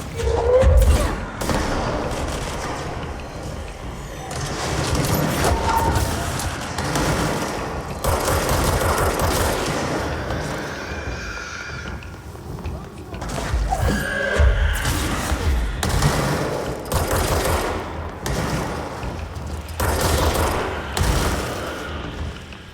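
Sustained gunfire in the video game Control, dense bursts and thuds running almost continuously at steady loudness, with a few heavier booming hits.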